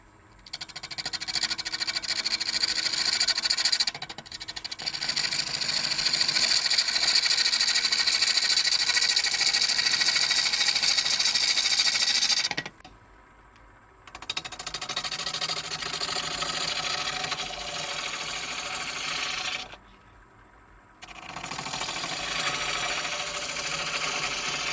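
A woodturning tool cuts into spinning wood on a lathe, a loud continuous hissing scrape that runs for long stretches with two brief pauses where only a low motor hum remains.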